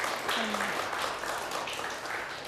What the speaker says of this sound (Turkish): o alkış azdır daha kuvvetlisini isterim.